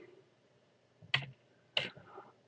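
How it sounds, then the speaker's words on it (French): Two sharp, separate clicks from a computer keyboard as a shortcut is pressed, close and quiet in a still room. "on va faire un raccourci clavier"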